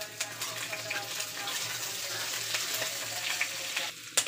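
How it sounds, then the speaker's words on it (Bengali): Chitoi pitha and chicken meat sizzle and fry steadily in a pan late at night, a continuous close hiss with small bubbling pops and a brief clatter near the end. "পিঠা আর গোশ রান্না করতেছি"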